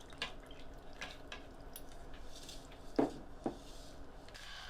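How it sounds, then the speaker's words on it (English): Blueberry muffin batter being stirred into a dry mixture, giving faint, soft wet squishes with two brief, slightly louder squelches in the middle of a quiet passage. "Then pour into dry mixture and stir until well mixed."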